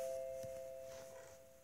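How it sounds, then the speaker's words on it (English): A doorbell rings faintly indoors, a single sustained two-tone chime heard over a quiet background. "Oh, sorry about that doorbell."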